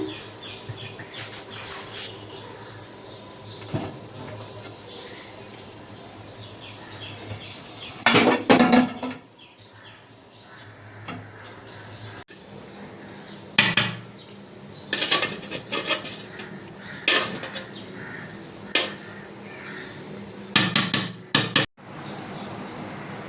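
A lid lifts off a pot of Dada Boudi style chicken biryani after it has rested on dum, with a few metallic clanks and scrapes of pot and cover against a quiet background and faint bird chirps.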